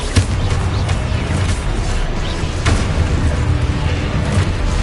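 Harry Potter video game spell combat with dense explosive bursts and booming impacts, sharp pops repeating over a continuous rumbling bed, loud and close throughout without speech.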